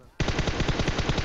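Rapid automatic gunfire from the PUBG Mobile game starts abruptly as a loud, sustained burst of evenly spaced shots, close and alone with no talk.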